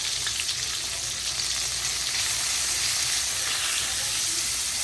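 Onion and green chilli fry in hot oil in a pan with a steady, dense sizzle and crackle that stays even and fairly close throughout, with no voices over it.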